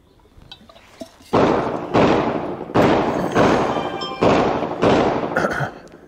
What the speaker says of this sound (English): now we will shoot the modified ammo on the right-hand dot.